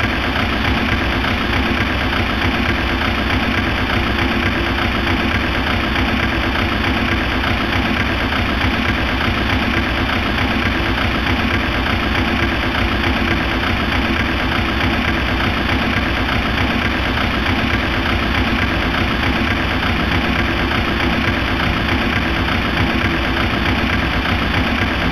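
Aircraft engines one and two spooling up in the FSX flight simulator during departure from Princess Juliana International Airport: a steady, loud, continuous engine drone with a constant tonal hum, unchanging throughout and heard alone without talk.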